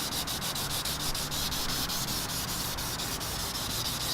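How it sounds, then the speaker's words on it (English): Primer filler on a car bumper being sanded by hand without a block: quick, even back-and-forth rasping strokes, roughly five per second, close and steady with no talking. "I know I'm sanding this with my hands, and I should be using a block"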